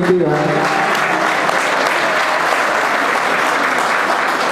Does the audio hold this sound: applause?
yes